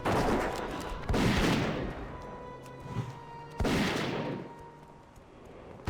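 Gunshots from a Worgen hunter in World of Warcraft: Cataclysm, two heavy booming blasts about two and a half seconds apart, each trailing off into a long rumbling decay, with no talking.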